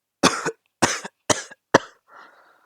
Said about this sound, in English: Izuku starts coughing from this one